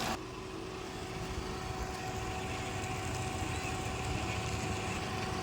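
A 2019 Hyundai Santro with 46,000 km idles with its air conditioning running, giving a steady, even engine and blower drone with a faint tonal hum, close and continuous throughout.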